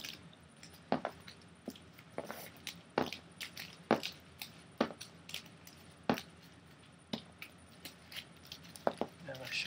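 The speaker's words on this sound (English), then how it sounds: "now I'm going to shuffle my event cards into my player's deck." Sleeved event cards for the Pandemic board game are shuffled into a player deck, giving a series of soft slapping and riffling bursts at irregular intervals, close and fairly quiet.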